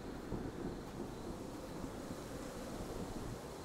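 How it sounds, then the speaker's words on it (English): A low, continuous rumble of thunder during a night-time storm, with steady broadband roar like wind and rain, dense and unbroken throughout, no distinct crack, moderately loud and fairly distant. "Thunder."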